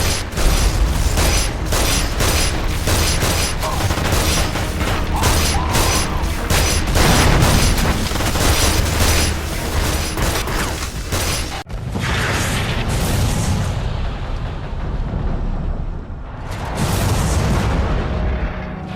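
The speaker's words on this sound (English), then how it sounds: "Pull the lever to detonate the charges!" A lever pulled to set off explosive charges in the Damnation video game brings loud, continuous rumbling blasts and mechanical clatter that fill the scene, with a brief cut midway before a fresh burst of booming debris.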